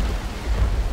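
Thunder rumbles through a rainy storm in the Left 4 Dead 2 sugar-mill escape level: a brief, deep, continuous roll with a hiss of rain over it and no voices.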